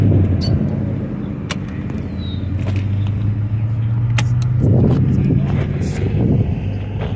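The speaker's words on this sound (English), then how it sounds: "Now I get this Ferrari guy. He's leaving." A Ferrari pulls away from an Indianapolis cruise-in car show, its engine note rising steadily and fairly close amid outdoor wind and crowd ambience, with a brief louder surge near the end.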